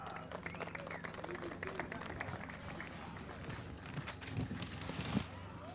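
Applause for podium finishers at a kart race at Silverstone, faint and distant clapping from a small crowd under a steady outdoor wash, swelling slightly near the end.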